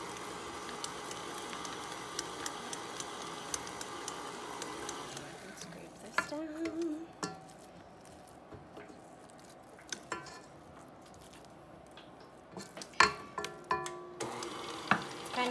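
A spatula scraping thick choux batter for chocolate eclairs around a mixing bowl, a soft continuous scuffing with scattered light clicks and knocks, moderately close and fairly quiet, with no talking.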